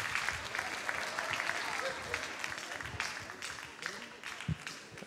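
Crowd applause at the final song contest of the Jeux de la Francophonie, a broad continuous roar of clapping from a large audience, with faint voices mixed in underneath.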